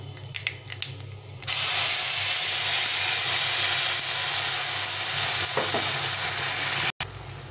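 Spice paste hits hot oil already seasoned with black cumin, bursting into a loud, steady broadband sizzle that holds nearly unbroken, with a faint stir or two and a brief dropout near the end.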